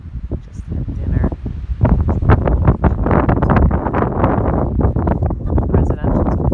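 Strong wind buffets the microphone on an open mountain summit at sunset, a loud, continuous roaring rush that gusts harder after the first couple of seconds.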